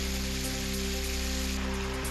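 Heavy monsoon downpour across Sindhudurg district in Maharashtra's Konkan region, a steady, dense hiss of rain with no voices.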